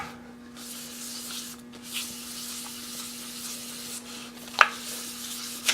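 A hand rubs and polishes a flat surface to remove marks, making soft continuous swishing strokes with a steady faint hum beneath and a couple of brief sharper squeaks near the end.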